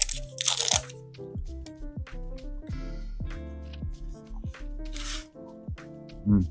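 Crunchy Reese's pieces and brownies are mashed into ice cream, giving a series of close, sharp crunches and crackles mixed with wet squishing, in uneven bursts.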